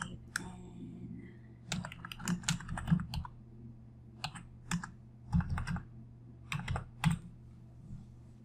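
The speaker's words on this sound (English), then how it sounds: "So I'm going to type in" Someone types a document name on a computer keyboard: light, close clicking keystrokes come in short irregular bursts separated by pauses, with no voices.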